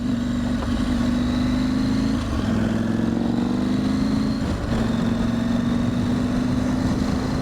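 A KTM 790 Adventure motorcycle fitted with KTM 890R suspension rides through traffic, its engine a steady, loud, close drone that dips briefly now and then, with no talk.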